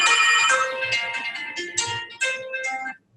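Electronic phone ringtone for an incoming call from an unknown caller, a bright repeating melodic pattern of tones played up close and loud, stopping abruptly near the end.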